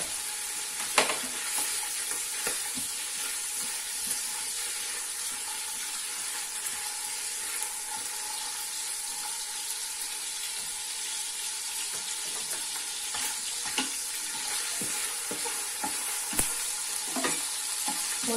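Bacon frying in hot oil in a pan, a steady, moderately loud hiss of sizzling with occasional sharper pops and stirring clicks throughout, no voices.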